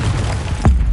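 A Confringo explosive spell blast in Hogwarts Legacy, a single short boom with a low thump landing over steady game background sound.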